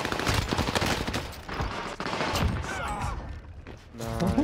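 Rapid, punchy blasts from a JAK-12 automatic shotgun in Warzone, close and loud over dense game noise, with a voice speaking between the shots.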